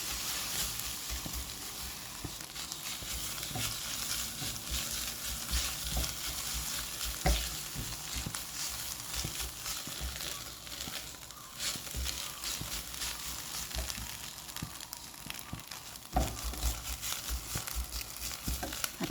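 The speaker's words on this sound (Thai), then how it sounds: "ก็จะผัดแห้งๆ" Food stir-fried dry in a pan for a homestyle Thai dish sizzles and crackles steadily, with a continuous close hiss and occasional scraping stirs.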